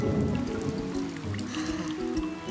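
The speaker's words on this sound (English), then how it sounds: "Is the rain ever going to stop?" Cartoon rain falls in a steady wash of pattering drops and trickling water, dense and continuous across the whole stretch without any voices.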